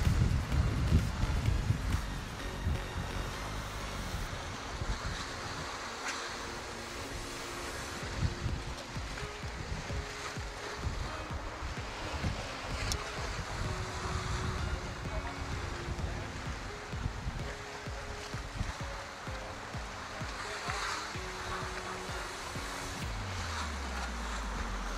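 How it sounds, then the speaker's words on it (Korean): Strong, typhoon-like wind buffets the microphone as waves surge and wash at sea off Busan during a fishing trip, a continuous loud roar with rumbling gusts and no speech. "와, 이 정도면 태풍인데, 태풍."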